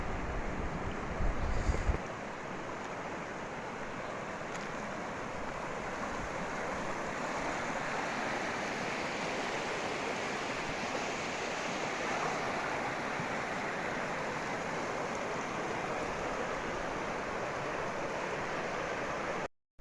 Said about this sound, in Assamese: এইখন নদীৰ নাম হ'ল আপোনাৰ দিৰিং নদী